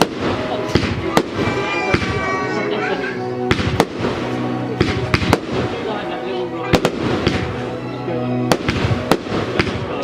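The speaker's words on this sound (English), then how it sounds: "Fireworks I think there might be." Fireworks exploding at the Lanimers celebration, a rapid series of sharp, loud bangs and crackles spread across the sky, with people talking underneath.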